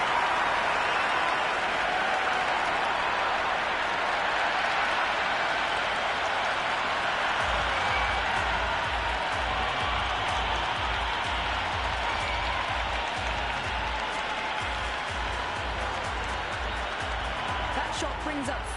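Crowd applause and cheering from fans at a simulated IPL cricket match in the video game Cricket 26, a steady broadband roar of clapping that continues for the whole stretch, with a low rhythmic pulse entering partway through.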